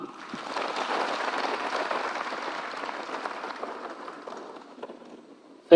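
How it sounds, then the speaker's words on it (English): Applause from a crowd at a Kenya Kwanza political rally in Kenya, a dense, steady patter of clapping that swells early, then gradually thins and fades out over several seconds. "I think she deserves another clap."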